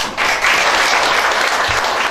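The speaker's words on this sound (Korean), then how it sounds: "다시 한번 우리 실장님께 뜨거운 박수 부탁드립니다." Warm applause from the audience at a regional development forum at Mokpo University fills a short burst, dense and steady after a policy lecture by a department director.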